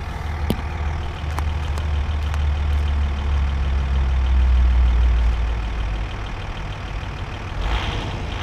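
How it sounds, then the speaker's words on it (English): An Audi Allroad A6 2.5 TDI diesel engine runs at a steady idle, a low rumbling drone with a few faint ticks and clicks, swelling slightly in the middle before easing off. "It's a diesel car, but I'll show you the noise."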